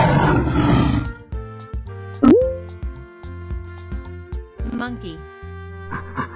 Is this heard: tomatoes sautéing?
no